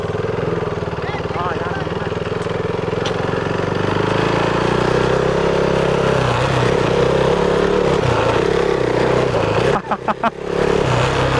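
An old BS3 KTM Duke 390 motorcycle engine runs close by with a steady, loud throbbing drone that rises a little partway through, with brief choppy dips near the end.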